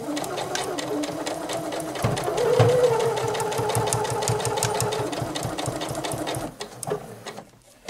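A sewing machine runs in a steady, rapid stitching rhythm for several seconds, loud and close, pausing briefly near the end before starting again.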